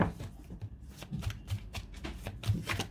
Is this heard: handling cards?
yes